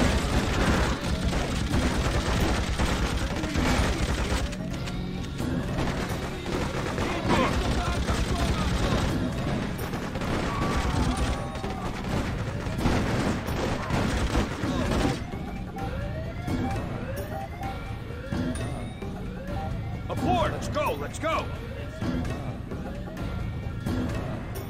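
Dense, continuous gunfire crackles through a chaotic street battle in the Freedom Fighters game, with overlapping bursts, shouting voices and a siren-like wail mixed into the busy background.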